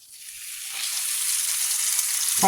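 French toast frying in hot grease in a pan: a sizzle rises quickly into a steady, close, hissing crackle that continues throughout, with a brief thud at the end.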